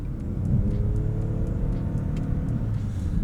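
A 2024 Lexus LBX 1.5L hybrid pulls away in drive on a snowy road on winter tires, a steady, fairly loud low engine and road rumble that holds throughout with a slight rise.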